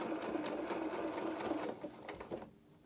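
A sewing machine stitches the bodice of a doll's playsuit, running in a fast steady whir before slowing and stopping near the end.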